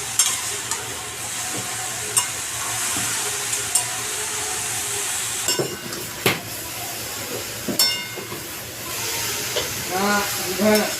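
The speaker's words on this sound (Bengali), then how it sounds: "এবার একটু নেড়ে নেবো" Food sizzles steadily in a pan as pumpkin stem chachchari cooks with turmeric, while a utensil stirs and scrapes through it in occasional knocks and strokes, close by, with faint background voices.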